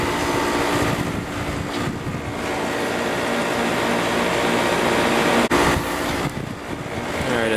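A GE air conditioner running during a temperature-drop test, giving a loud, steady, close whooshing roar of fan and airflow that briefly cuts out once before resuming.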